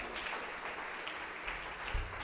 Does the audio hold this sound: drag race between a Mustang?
no